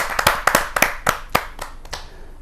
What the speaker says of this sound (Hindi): मैं जोरदार तालियों के साथ उनका स्वागत करता हूं